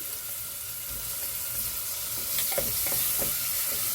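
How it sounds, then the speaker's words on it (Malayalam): Onions fry in oil with ginger-garlic paste, a constant close sizzle with a few scraping stirs clustered toward the end. "സവാള ഇപ്പം നല്ലപോലെ വഴണ്ടി വന്നിരിക്കുകയാണ്"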